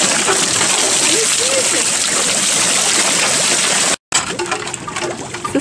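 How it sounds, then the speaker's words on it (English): A water wheel turns in flowing water somewhere in Southeast Asia, giving a steady, close, loud rushing and splashing that fills the whole clip, with brief voices audible over it. "Water wheel."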